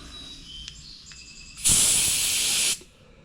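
Compressed air blasts through the carburetor of a Troy-Bilt push mower that sat outside for two years: one loud, steady hiss lasting about a second, close up, rising sharply from a quiet background and cutting off abruptly.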